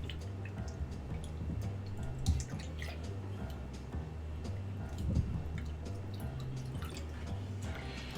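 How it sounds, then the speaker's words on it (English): Tap water splashes and drips steadily over potatoes as they are rinsed of starch in a home kitchen, with soft irregular patters and low background hum, no talk. "I'm just rinsing a little bit of the starch off of those potatoes"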